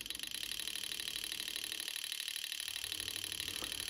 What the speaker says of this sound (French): on peut donc régler la vitesse de ce moteur en augmentant la fréquence de signaux